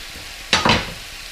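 Mung bean sprouts hit a hot pan on small heat, a short loud double burst of sizzling and stirring over faint background hiss.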